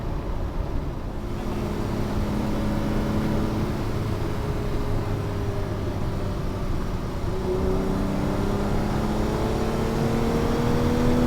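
A Ferrari 330 GTC drives along with a steady engine drone and wind rush inside the cabin, and its pitch rises and drops as it shifts through gears, continuous and fairly loud.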